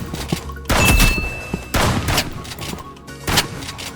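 Gunblade shots in the Roblox game Rivals come as several loud, punchy bursts of gunfire with short gaps between them, close and dominant, mixed with other game effects.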